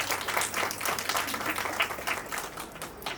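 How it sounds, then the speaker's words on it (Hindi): An audience at a school farewell celebration claps for a departing teacher, a steady, fairly faint patter of many hands with no voices. "तो एक बार जोरदार तालियों से मैम का फिर से"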